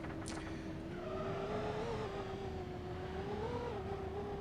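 A Greycat ground vehicle driving in the game Star Citizen, its steady engine drone holding a constant pitch with slight rises and dips, continuous and fairly quiet with no talk.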